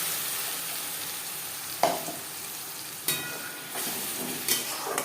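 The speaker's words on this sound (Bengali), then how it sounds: "3-4 মিনিট হালকা করে পেঁয়াজ ভেজে নেওয়ার পর দিয়ে দেবো পেঁয়াজ টমেটোর পেস্ট" Onion-tomato paste frying in a pan for a Bengali potato-chicken curry, a steady close sizzle broken by a few sharp stirring clatters; no voices.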